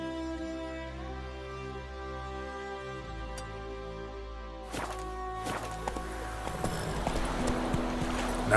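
Roach the horse galloping in The Witcher 3, starting with a few faint hoofbeats and then building into rapid, louder hoof clatter that rises toward the end.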